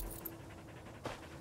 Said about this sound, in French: Le chien Rolly s'en va